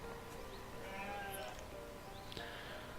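Sheep in the video game Banished bleat in a pasture, a few soft, distant calls over a steady low background hum.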